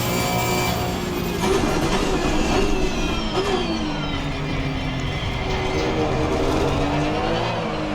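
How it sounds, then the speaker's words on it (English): A Porsche GT3-style race car engine in Assetto Corsa Competizione roars steadily and loudly, its pitch rising and falling with shifts and throttle changes. No one speaks over it. "Sound-wise, I have to say it pretty much sounds like the GT3 Porsche."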